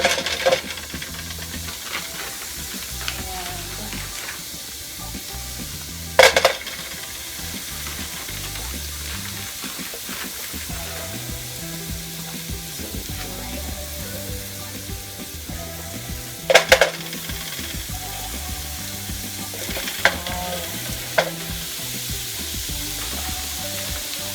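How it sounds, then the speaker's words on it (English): Hamburger patties sizzling steadily in a pan at close range, a constant frying hiss with a few sharp clinks and taps of a utensil along the way, with no voices. "Alright, so we're getting our patties in the pan."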